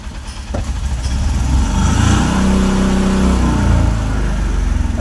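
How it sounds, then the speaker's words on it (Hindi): A Mahindra Jeeto BS6 engine, a vehicle with a DEF supply pump fault, revs up steadily and loudly close by, the engine note rising and holding strong for several seconds with no talk. "अब तो थोड़ी सी व्हीकल को हम रेस देते हैं।"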